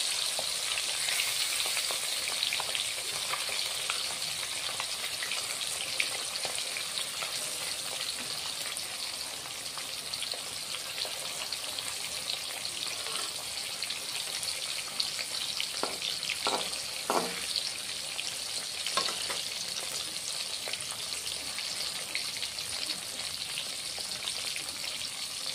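Bata fish frying in hot oil gives a continuous close sizzle with crackling spatters, and a few sharper pops and clinks from the pan partway through. No one speaks.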